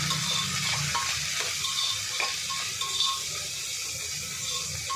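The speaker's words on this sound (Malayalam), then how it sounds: "ഉപ്പിട്ടിട്ട് നല്ലപോലെ ഒന്ന് ഇളക്കി കൊടുക്കുക" Beans and vegetables salted in a pan for veg biryani, stirred over steady frying sizzle with light scraping and occasional ticks of the spoon, continuous and close, with no talking.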